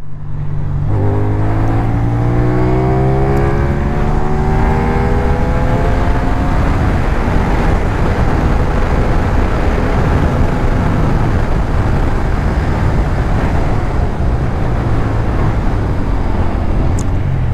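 A CF Moto 450 SR motorcycle rides a road on an Ankara route, its engine loud and steady under constant wind roar, with rising tones as it accelerates through the gears.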